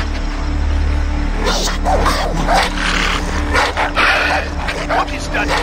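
Dogs bark and yip in the Far Cry 3 video game, a cluster of sharp, fairly close barks over a steady low game rumble, with someone talking over them.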